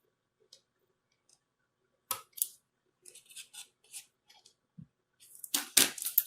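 Scissors snip off excess paper while making a mini piñata, a few faint isolated cuts followed by denser, louder snipping toward the end.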